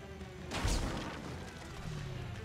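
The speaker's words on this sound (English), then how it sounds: "we need to smash this rubble now" Rubble being smashed in the video game Demon Stone: one loud crashing burst lands about a second in, then trails into a busy background of game effects.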